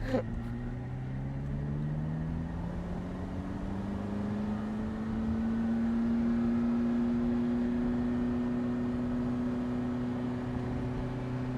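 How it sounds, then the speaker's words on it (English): A 2008 Ferrari F430 Spider engine with a 6-speed manual drones steadily from inside the moving convertible, its pitch rising slowly and then holding as it cruises, with a constant rumble of road noise. "just drive and just listen to the sound of the engine"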